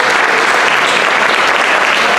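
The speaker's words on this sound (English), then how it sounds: "Please give our panel a hand." Loud, dense applause for a panel at a community meeting, a continuous wash of many hands clapping close by with no pause, filling the whole stretch.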